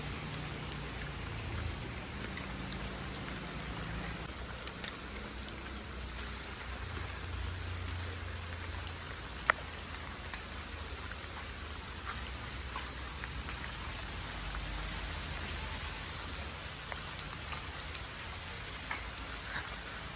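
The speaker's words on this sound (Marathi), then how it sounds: "हे बघा गरम पाण्याचं कुंड" Steady splashing and pattering water runs on without a break at a hot water spring pool, a continuous wet hiss with no one talking.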